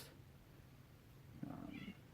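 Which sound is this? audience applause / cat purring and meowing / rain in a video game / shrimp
cat purring and meowing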